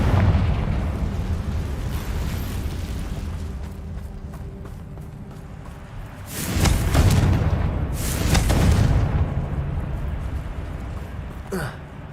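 A Confringo fire spell from Hogwarts Legacy bursts into two loud, booming explosions a couple of seconds apart, then a sharp crack, over a steady rumbling game background.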